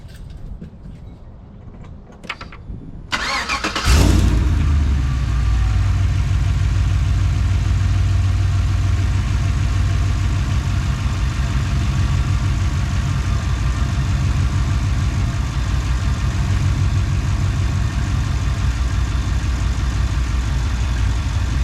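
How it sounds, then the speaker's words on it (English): Chevrolet Silverado engine with an S&B cold air intake cranks over and fires up, settling into a loud, steady low rumbling idle after a few seconds of quiet clicks and handling noises. "Let's start this thing up."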